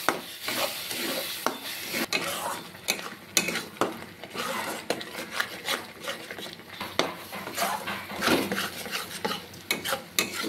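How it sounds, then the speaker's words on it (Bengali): Chili, cumin and coriander spice masala with salt being sautéed in a pan for egg korma, the spoon scraping and clinking steadily against the metal over a soft sizzle, close and busy throughout. "এর মধ্যে এবার স্বাদ মতো নুন দিয়ে মশলাটাকে আমি ভালো করে কষিয়ে নিব"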